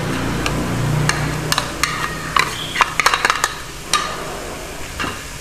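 Grated paneer stuffing stirred in a pan for kulcha, a spoon scraping and clinking against the metal in repeated sharp taps over a soft, steady sizzle.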